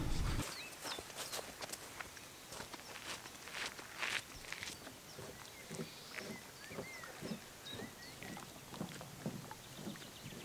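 Footsteps crunch along steadily outdoors at the lake Store Økssø near Skørping, Denmark, as a faint, regular series of close steps with light wind and rustling around them.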